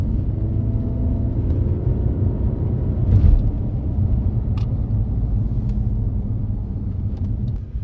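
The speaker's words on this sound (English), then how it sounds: "you're always going to hear the engine noise like you would in something like a Ferrari" A 2006 Bentley Continental Flying Spur engine pulling hard under acceleration, a loud continuous low rumble heard from inside the cabin that swells slightly partway through, with faint clicks and no talking.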